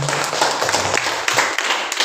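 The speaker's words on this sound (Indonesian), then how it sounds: "Kita tepuk tangan untuk kita semua." Schoolchildren in a classroom clap their hands together for a couple of seconds, producing a quick, uneven patter of claps heard up close, with a faint voice underneath.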